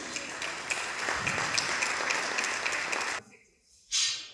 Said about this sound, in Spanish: Con este fuerte aplauso voy a invitar a Virginia a tomar asiento.